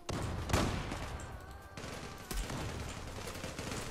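M4A1 rifle fire in the online shooter Zula, with a loud single shot followed later by another sharp report over continuous dense background battle noise.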